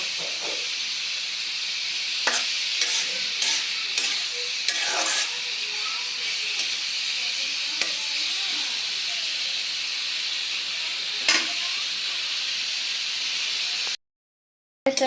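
Onions and green chilies frying in oil in a pan until browned, a continuous close hiss and sizzle with scattered crackles and stirring clicks throughout, ending in a brief silence.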